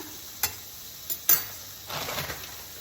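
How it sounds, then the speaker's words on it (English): Fresh Ailsa Craig onions drop into a hot pan with peppers, giving a few sharp clatters followed by a soft, rising sizzle, close and fairly quiet. "today I have some fresh onions, so I'm gonna go ahead and put those in, just like that"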